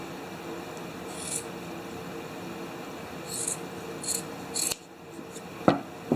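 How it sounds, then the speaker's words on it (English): Scissors snip through excess fuzzy sock fabric in a few short, close cuts separated by pauses, with light rustling of the cloth and a soft thump near the end. "we're going to trim off this excess fabric at the bottom here"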